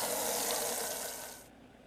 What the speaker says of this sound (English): I'll water the plant.